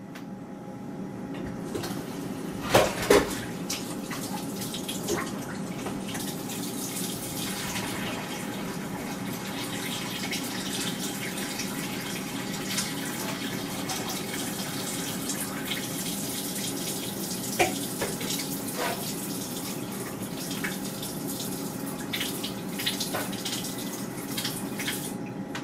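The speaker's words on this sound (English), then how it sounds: "And let's drain the water." Water pours steadily from a cooking pot into a bowl as it is drained off boiled sugar potatoes, a continuous close gush with a few brief clatters of the pot.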